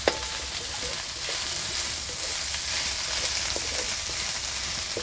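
Onions sautéing in oil in a pan for a sundge curry, giving a steady close sizzle with occasional soft stirring scrapes throughout, no voices.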